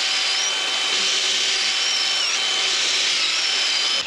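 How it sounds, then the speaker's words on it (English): A power driver runs 150mm bugle screws through a face beam into timber pergola rafters, giving a steady, continuous whirring drive close by with no pauses and no voices. "going through with triple 150mm bugle screws and screwing in from"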